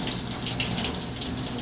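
Water running from a tap in a steady hiss during a surgical scrub as an arm is rinsed, a continuous close splashing stream with no talk.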